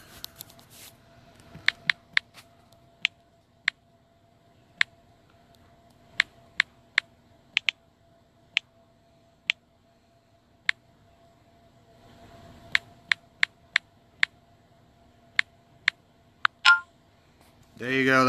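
A finger taps a number onto a phone keypad: about twenty sharp, close clicks in irregular clusters over a quiet background, ending in a louder rustling burst.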